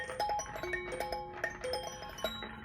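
Bright, bell-like chime tones from a vintage toy ring out in a light tinkling pattern, clear notes sustaining and overlapping, close by and fairly soft.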